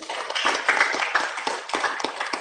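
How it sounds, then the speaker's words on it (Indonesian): A church congregation clapping together during a sermon, a bright, uneven run of hand claps with loud bursts and brief dips, fairly close, with no voices over it. "Berikan tepuk tangan kita."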